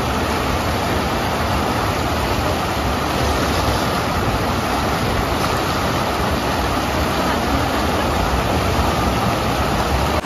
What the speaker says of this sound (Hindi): बहुत सारा पानी का आवाज बहुत आ रहा है